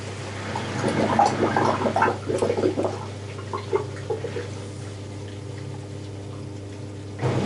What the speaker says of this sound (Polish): W tej chwili działa pompa usuwająca wodę z pralki.